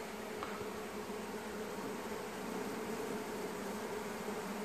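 A swarm of wild bees cut out of a hive inside a camper fills the air with a continuous, dense buzzing drone, fairly quiet and even throughout, with no voices.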